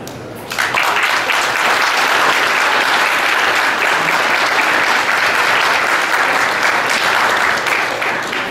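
A banquet audience at an annual awards dinner breaks into loud, sustained applause for board members, dense clapping that swells quickly after a brief quiet start and holds steady, filling the room until the end.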